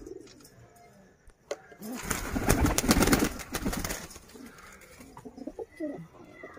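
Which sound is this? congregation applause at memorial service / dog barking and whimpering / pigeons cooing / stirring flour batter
pigeons cooing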